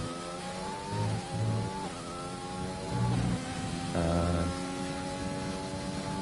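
Formula 1 race cars in a racing video game, a steady engine whine with shifting pitches as several cars drive past, constant and moderately loud, with no talk.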